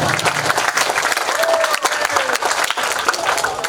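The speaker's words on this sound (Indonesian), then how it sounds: "Tepuk tangan untuk kita semuanya." Audience applause at an Indonesian literacy camp discussion session, a full burst of many hands clapping at once, loud and close, with faint voices mixed in.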